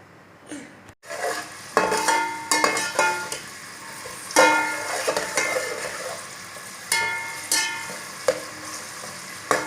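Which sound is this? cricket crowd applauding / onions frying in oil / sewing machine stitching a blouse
onions frying in oil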